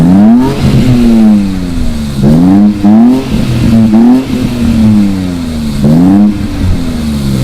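An Infiniti Q50 with a VR30 engine and B6A lower downpipes fitted, revved hard with the exhaust valve closed: several loud, close throttle blips rise and fall in quick succession.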